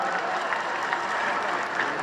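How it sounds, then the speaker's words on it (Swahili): A crowd at a KDF airshow at Uhuru Gardens applauds a paraglider jump master after his landing, with brief steady clapping heard at a distance. "Tumpe makofi Jump Master."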